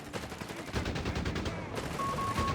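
Heavy gunfire from a Company of Heroes 3 battle between Afrika Korps and US forces, with dense, continuous volleys of rifle and machine-gun fire under a steady rumble of combat noise, and a voice talking faintly beneath.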